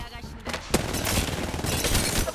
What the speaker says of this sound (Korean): 멍청이들이 날 쏘고 있다